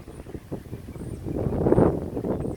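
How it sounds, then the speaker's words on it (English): Wind gusts buffet the microphone with a low, rumbling roar that swells toward the middle and then eases slightly. "Windy day out."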